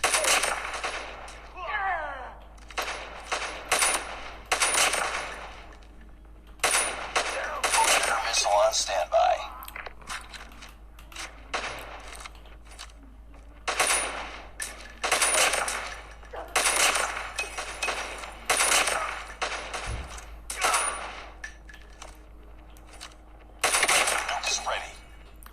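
Gunfire from the video game Call of Duty comes in repeated bursts of automatic shots, fairly loud and spread across the round, with a voice talking between and under the volleys.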